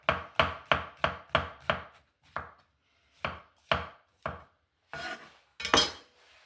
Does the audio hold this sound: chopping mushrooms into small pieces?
yes